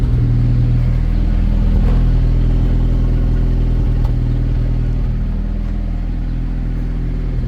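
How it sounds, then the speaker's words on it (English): A Ford Ranger engine with a misfire runs loud and close in a steady drone, with occasional small stumbles and sputters breaking the rhythm. "there's a misfire in it. It does like a sputtering thing"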